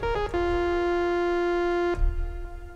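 A sustained tone from an initialized Moog synthesizer patch holds steady for over a second, then cuts off and leaves a long, washy reverb tail fading away.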